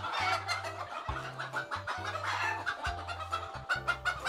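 Chickens at a chicken farm in Tây Ninh, Vietnam cluck steadily in a busy, overlapping chorus, close and continuous, over a low humming background.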